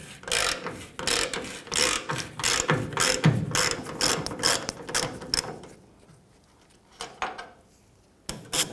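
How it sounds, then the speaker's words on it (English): Ratchet turning a T40 Torx bit to remove tailgate hinge bolts on a 1994–2004 Chevy S10, loud close bursts of rapid clicking, pausing briefly before a few last clicks. "Using our T40 Torx bit and our ratchet,"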